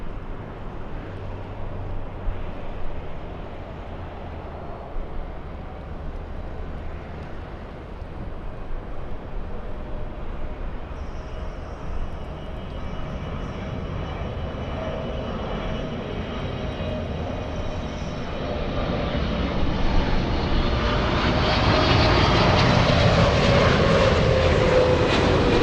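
A passenger jet lands at Los Angeles International Airport, its engine roar building steadily from a broad distant rumble to a louder, close whine and rush near the end, with wind noise and no talk.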